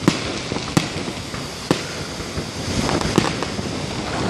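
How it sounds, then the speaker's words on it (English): Silver salute fireworks pop in sharp, loud reports at an outdoor July show near a lake shore, several irregular bangs ringing out over a hiss of wind and distant crowd. "they did silver salutes really early on in the fireworks show"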